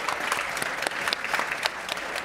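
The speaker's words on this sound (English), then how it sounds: "I'd like you to please give a really warm round of applause to Megan." An audience at a tech and entertainment business talk gives a warm round of applause, dense clapping with sharp individual claps standing out, sustained and fairly close throughout.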